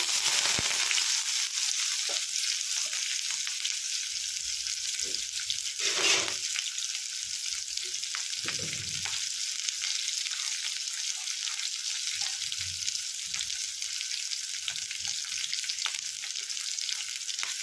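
Thick, lengthwise-sliced onions fry with shahjeera, cloves and cardamom in a pan, producing a steady, even sizzle that runs throughout, with a few soft stirring knocks and scrapes along the way.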